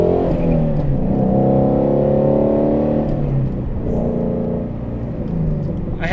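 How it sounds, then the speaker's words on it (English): A Shelby GT350's engine pulls hard under acceleration, a loud, close, rising drivetrain roar that eases off and builds again. "I had to quickly accelerate past a shady situation."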